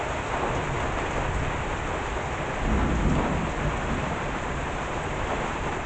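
Heavy deluge of rain pouring steadily during a thunderstorm, a dense unbroken roar with a low rumble of thunder swelling near the middle.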